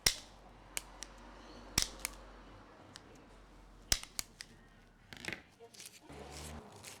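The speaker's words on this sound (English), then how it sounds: "I'll keep the little pieces that I've trimmed off the main stem to the side." Sharp, isolated snips of scissors cutting pittosporum stems for a flower arrangement, a handful of crisp clicks spaced irregularly and close by, with quiet rustling between.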